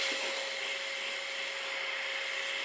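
A steady high-pitched electric whine of a cordless electric air duster blowing, with a constant tonal hum, continuous and fairly quiet, with no voices.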